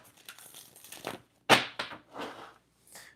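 Tarot cards being shuffled by hand, a few crisp rustling, riffling bursts with a sharp flick in the middle and short pauses between, close and fairly quiet with no talking.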